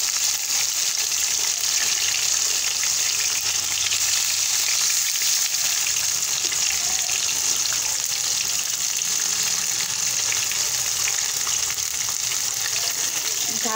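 Tomatoes frying in a pan for a village-style Maharashtrian tomato rassa bhaji make a loud, continuous close sizzle with a bright crackling hiss that holds steady and unbroken.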